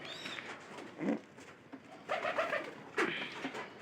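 Soft pigeon coos in a few short bursts, separated by brief pauses, fairly close with a faint background hiss.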